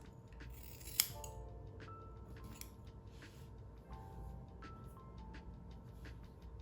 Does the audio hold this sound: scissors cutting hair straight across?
yes